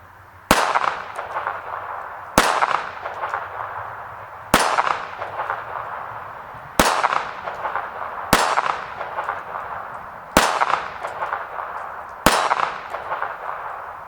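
Seven sharp, loud gunshots from a Taurus Spectrum .380 pistol ring out at a shooting range, spaced about two seconds apart, each followed by a short ringing decay.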